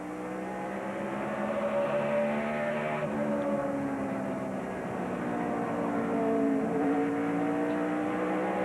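Matt Kenseth's race car engine at the 2008 Food City 500, revving hard with rising and falling throttle blips as it spikes into a corner, loud and continuous with no talk.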